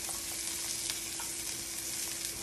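Halved garlic sears face down in a hot pan for braised short ribs, giving a loud, dense, continuous sizzle with no pauses.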